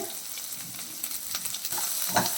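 Curry leaves frying in hot oil in a pan for Kerala fish curry, a soft continuous sizzle with crackles and a brief louder spatter near the end, heard alone.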